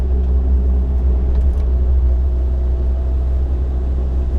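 A Suzuki SJ 4x4 drives steadily in third gear at about 50, its engine a loud, constant low rumble heard from inside the cabin without talk.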